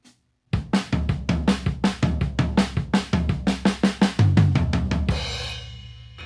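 Rapid drum fill with steady snare and tom strokes and thumping bass drum, building to a loud cymbal crash that rings out.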